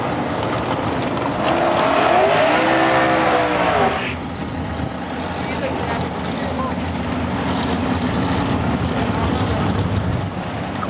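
A Corvette race car roars at a drag race, loud engine noise with a rising, shifting pitch over the first four seconds, then a steadier rumble of track noise.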